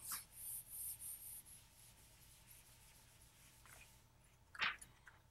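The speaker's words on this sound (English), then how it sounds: "I'm going to have to erase this stuff." Soft, close rubbing strokes of an eraser wiping writing off a board, several brisk swipes at first, then quieter scrubbing and one sharper squeak near the end, with no talking.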